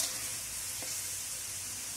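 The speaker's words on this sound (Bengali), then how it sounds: "মাংসটা সুন্দর করে কষিয়ে নেব।" Chicken pieces sizzle steadily in a hot pan while being stirred for a chicken curry, a continuous broadband frying hiss with a brief scrape partway through, close and fairly loud with no voices.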